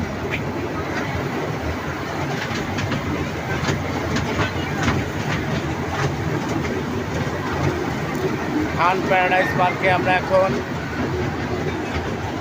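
A small mini train runs on its track at Khan Paradise Park in Kalukhali, Rajbari, giving a steady rumble with faint rhythmic clacking throughout, while people talk over it.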